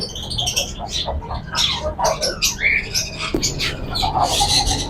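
Blue pied fancy birds in a bird shop, a busy mix of chirps and squawks from several birds, close and continuous, with someone talking over them.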